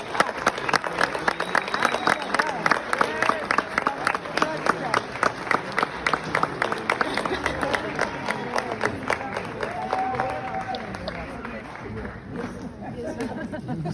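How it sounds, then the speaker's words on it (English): An audience at a premiere event applauds panelists joining the stage, with brisk rhythmic clapping mixed with crowd chatter and occasional cheers, loud at first and thinning out toward the end. "Round of applause, ladies and gentlemen."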